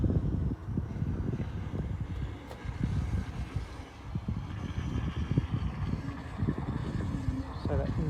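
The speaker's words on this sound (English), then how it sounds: "So that engine on that Concerto don't sound great." The engine of a Concerto boat on the Norfolk Broads runs roughly, giving a low, uneven rumble close by, mixed with gusty wind noise across the microphone.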